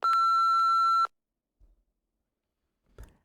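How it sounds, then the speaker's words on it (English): A loud steady electronic answering-machine beep from the 1996 DOS game Tiny Toon Adventures: Buster and the Beanstalk sounds for about a second, followed by near silence with a couple of faint soft thumps. "Leave your name at the beep."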